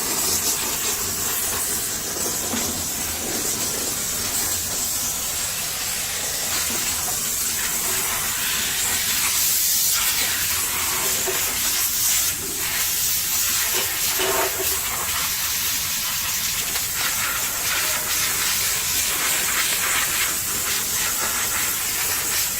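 A pressure sprayer blasts water over a Porsche 991 to wash the dirt off, a loud, steady hiss of spray that carries on without a break, with no talking.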